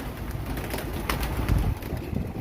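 Pigeons coo and murmur in a low, steady flock sound with soft rustling, continuous and close by.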